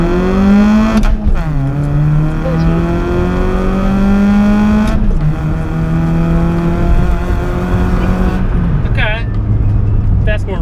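A daily driver car accelerates hard from a stop down a hill. The loud engine note climbs steadily, drops at each gear change and climbs again, heard from inside the cabin.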